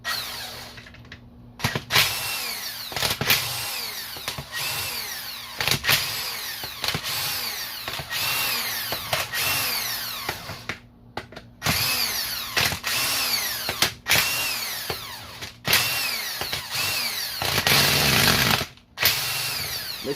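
A power tool, likely an impact driver or drill, zips out the 10 mm end cover bolts on a MAXA transmission in repeated close, loud bursts of whirring and rattling with brief pauses between bolts.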